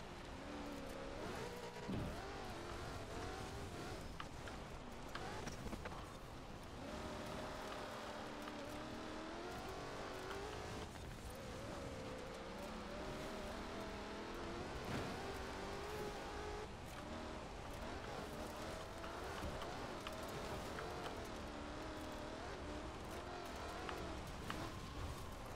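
A race car in Forza Horizon 4's Fortune Island expansion accelerates with a continuous engine roar that stays loud and dense throughout, with no talk over it.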